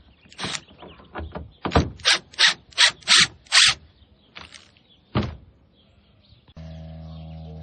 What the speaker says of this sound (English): Now we just screw this down.